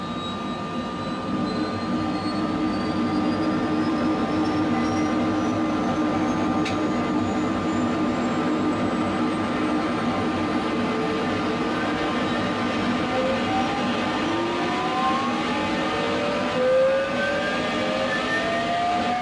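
The second engine of an H135 helicopter spools up in Microsoft Flight Simulator, a rising turbine whine climbing over a constant, loud engine drone with a steady tonal hum underneath.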